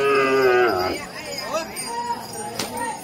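A decorated village bull lets out a long, loud, close moo that trails off, followed by softer lowing and background noise from a crowd.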